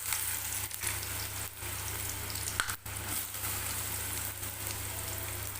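Ridge gourd sautéing in hot oil gives a loud, continuous, close sizzle that runs the whole time, dipping briefly a few times as the pieces are stirred.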